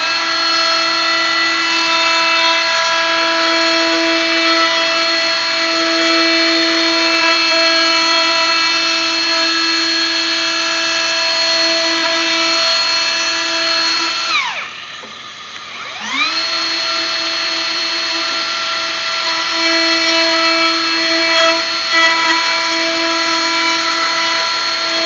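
A loud, steady high-pitched whine of a power sander sanding wood continuously, briefly dropping in pitch and spinning down around the middle before revving back up.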